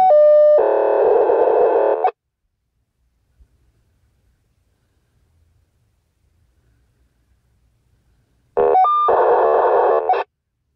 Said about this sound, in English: Sorry, morse code.